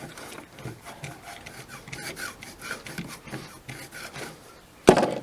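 Paint softened by dichloromethane stripper being scraped off a surface by hand, a run of short rough rasping strokes at a steady pace, close and fairly quiet, ending in one sharper, louder scrape.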